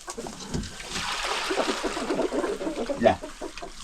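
Chickens in a Himalayan mountain village in Mustang, Nepal, clucking in a scattered, busy chorus with a brief louder burst near the end, under steady outdoor background noise.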